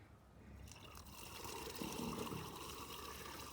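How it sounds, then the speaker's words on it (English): Water from a yard drainage pump pours into a dry well, a steady soft rushing and trickling flow that builds slightly, faint and alone. "In a moment, pump's kicking on. Here comes the water."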